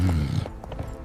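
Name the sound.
horse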